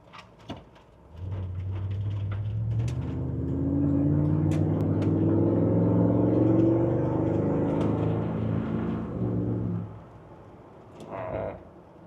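LS3-swapped Range Rover Classic LWB, a 430 hp Camel Trophy build, rumbling as it rolls past, engine note rising and holding for several seconds before fading, with a few clicks and bird calls around it.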